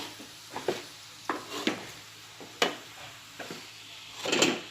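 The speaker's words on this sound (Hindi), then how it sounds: "हम इसे धीमी आंच पर ही चम्मच से हिलाते रहेंगे, वरना ये नीचे लग जाएंगे।" Jackfruit bhaji is stirred with a spoon in a pan over low heat, a series of close scraping and knocking strokes at irregular intervals over a faint sizzle.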